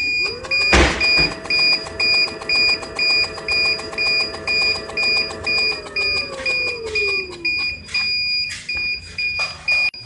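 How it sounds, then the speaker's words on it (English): A hoverboard wheel motor spins freely on a low battery. It gives a steady electric whine with sharp high beeps pulsing in a regular rhythm, and the tone sags toward the end as the spin slows. "we want to see how the wheel spins and how fast it spins when the battery is low"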